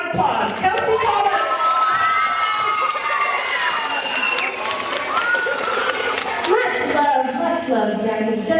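A crowd of children at a school anti-bullying assembly cheers, shouts and applauds loudly and continuously, with excited high voices layered over scattered clapping throughout.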